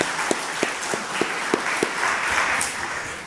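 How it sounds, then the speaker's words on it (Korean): A church congregation at a Sunday afternoon service claps in thanks for the Evergreen choir. A few distinct, evenly spaced claps lead in, then the clapping thickens into fuller applause that stays fairly soft. "우리가 에버그린 찬양들을 인해서도 하나님 앞에 감사의 박수를 한번 드리십시다."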